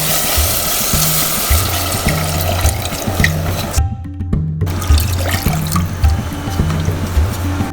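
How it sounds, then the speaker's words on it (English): Water is poured into a cooking masala for a vegetarian thali, a continuous trickling pour that briefly cuts out midway and then resumes over a steady background hum. "Now add some water and give it a boil"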